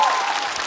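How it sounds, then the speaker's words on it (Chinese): A studio audience on a Chinese stand-up comedy show applauds the alumni team, a dense, steady wash of clapping from many hands with no break across its short span. "掌声送给完美的校友团成员"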